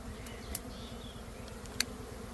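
Honey bees swarming up from a disturbed wild hive during village honey hunting, a dense low steady hum close by with a couple of sharp faint clicks.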